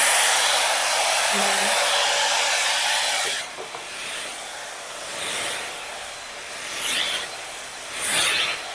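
An Urban Yog 3-in-1 hot air hairbrush blows a loud, steady whooshing hiss close by, then cuts to softer bursts of airflow and brushing rubs through hair.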